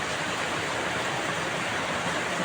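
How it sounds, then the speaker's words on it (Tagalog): Heavy rain pours in a steady, dense wash of broadband hiss, loud and unbroken from start to finish, with no voices over it. "Ang lakas ng ulan, no?"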